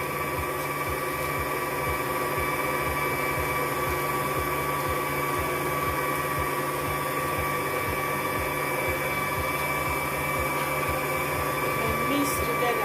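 Vanilla sponge cake batter whipped with an electric mixer, a steady close motor whine with a rhythmic low churning that runs without a break, loud and unbroken throughout.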